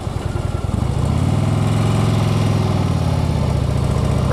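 Motorcycle engine on a twisty road during a quick downshift, a steady loud throbbing drone whose pitch dips and then climbs as the revs change, heard alone with no voices.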